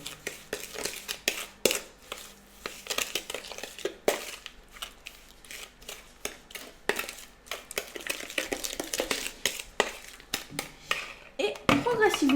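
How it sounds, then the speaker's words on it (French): Cake batter with vanilla sugar is mixed in a bowl, a steady run of clinking, scraping utensil taps against the bowl at close range, irregular and busy throughout, with a brief louder scrape near the end. "On mélange le tout."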